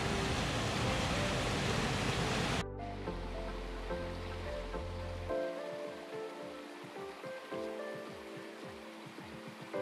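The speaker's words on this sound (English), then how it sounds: "We ran into this nice little waterfall here." Rushing water from a small waterfall on a hiking trail to Colchuck Lake, steady and close, with a soft musical tone running underneath.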